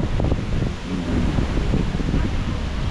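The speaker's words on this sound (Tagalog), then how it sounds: "Ayan o, sarap ng hangin o." Wind blows outdoors along a roadside, a continuous rough gusting rush buffeting close and loud throughout.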